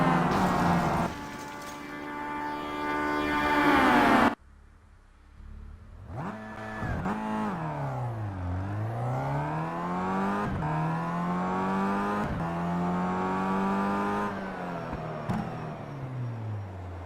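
Race cars, BMW and Volvo touring cars, racing at Laguna Seca in the Simraceway video game: a loud engine roar cuts off, then engines rise and fall through gear changes and passes, continuous and close.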